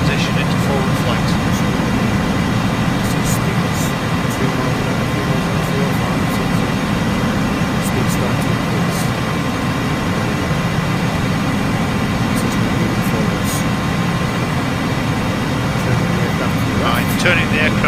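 A Harrier jet engine in Microsoft Flight Simulator 2024 roars as a steady, loud, continuous turbine drone during the transition to forward flight, with someone talking over it throughout.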